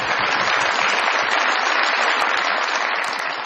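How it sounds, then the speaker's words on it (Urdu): Studio audience applause on a comedy talk show, a loud, dense burst of clapping that holds steady for a few seconds, close and full, with no talk over it. "بہت ساری تالیاں فائزہ حسن صاحبہ کے لیے بھی"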